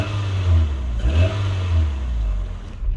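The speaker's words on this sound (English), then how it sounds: "Thought I may as well go for an unnecessary test drive." A car engine revving as it sets off on a short drive, a loud close drone that rises and falls in pitch with a brief dip midway, fading toward the end.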